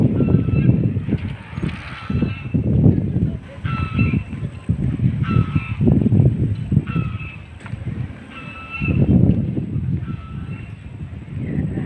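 Turkeys calling in a river park, with repeated loud honking gobbles in irregular bursts close by, mixed with outdoor ambience and some faint human sound.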